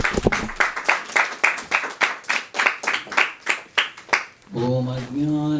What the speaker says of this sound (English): let's give our guest speaker a warm round of applause and a welcome.